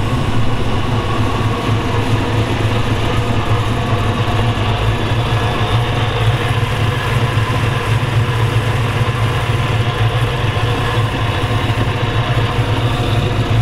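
A supercharged V8 in a 1967 Chevrolet Camaro idles loudly and steadily with a deep, rumbling, throbbing low end, close and continuous throughout.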